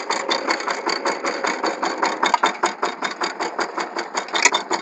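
A power tiller's engine chugs loudly and close in a fast, even mechanical rhythm while the machine runs in reverse in a field.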